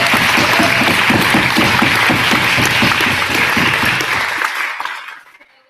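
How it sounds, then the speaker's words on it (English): Loud, sustained applause from a debate audience for the guest speakers, dense rhythmic clapping that carries on steadily before quickly fading out to silence. "It's a big round of applause for all of our guests."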